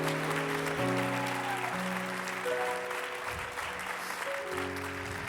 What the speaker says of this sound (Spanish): Dele fuerte ese aplauso al Rey.